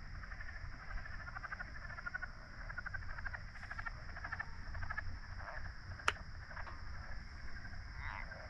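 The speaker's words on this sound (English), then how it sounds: "they got a lot of frogs out here tonight" A dense chorus of frogs croaks and trills steadily in the night air of a swamp, a constant pulsing din with a high insect-like drone above it and one sharp click.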